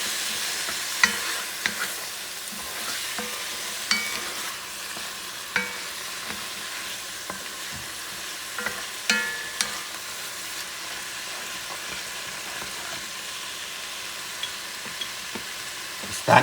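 Shrimp stew ingredients stirred in a hot pan, a steady sizzle broken by scattered scraping and clacking strokes of the utensil, close and without talk.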